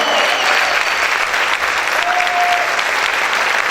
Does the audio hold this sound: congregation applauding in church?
yes